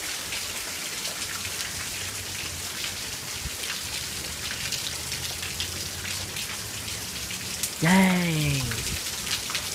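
Steady patter of a rainstorm during a brief lull, with raindrops hitting surfaces throughout, a gust of wind faintly audible, and someone speaking briefly near the end.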